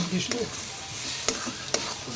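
Semolina fries in a pan with a steady close hiss, a few quick scraping stirs cutting through it.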